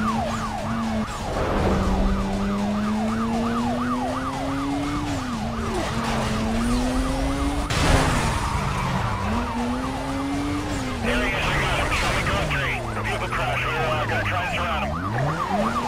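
Police car sirens wail in the racing video game Need for Speed Most Wanted (2005), two overlapping sirens sweeping up and down continuously over a steady engine drone during a street race, loud and close for the whole stretch.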